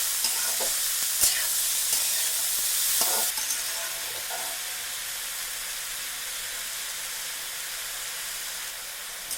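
Sweet potato frying in a pan is stirred, giving a loud crackling sizzle with scraping strokes early on, then settling into a softer steady hiss, close by with no voices.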